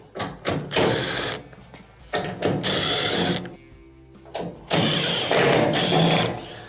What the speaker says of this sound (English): Let's take these out.